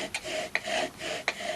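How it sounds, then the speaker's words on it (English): Bow drill spindle rubbing against a wooden hearth to make fire, a steady back-and-forth rasping friction with rhythmic strokes and short sharp peaks, close and alone. "And he invented the bow drill, not a matter of brute force,"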